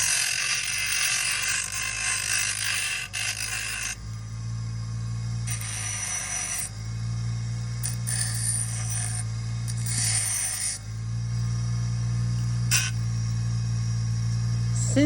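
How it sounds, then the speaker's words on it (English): A mini grinder works a metal ring shank on a jewelry bench, its steady buzzing whine running throughout, with bursts of brighter high-pitched grinding where the bit bites the metal. "Again, we're going to use a mini grinder."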